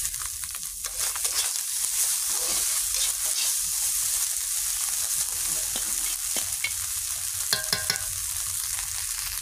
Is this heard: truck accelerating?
no